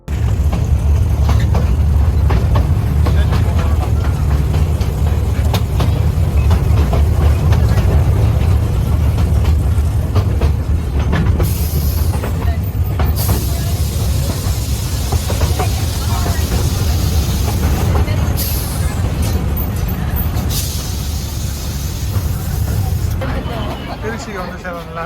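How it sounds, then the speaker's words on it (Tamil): A toy train ride at the Trichy Rail Museum gives a steady, loud rumble of rolling wheels and engine noise with occasional hissing bursts, and voices talk over it throughout. "வாங்க நம்ம ட்ரெயினில் போகலாம்."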